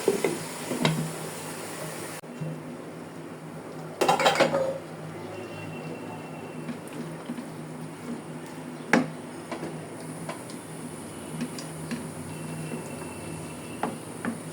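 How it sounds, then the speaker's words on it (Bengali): Vegetables for a rice-and-vegetable khichuri, made without lentils, are stirred in a metal pot, with scattered clinks and scrapes of a spoon. A louder clatter comes as the lid goes on, then a few light knocks over a low, steady background. "এখন নেড়ে চেড়ে ঢাকনা দিয়ে ঢেকে দেব।"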